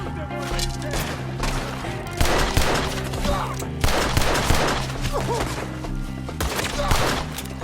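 Gunfire in the video game Red Dead Redemption 2, a busy exchange of repeated loud shots and rattling volleys in irregular bursts, heard over a low musical drone while voices shout.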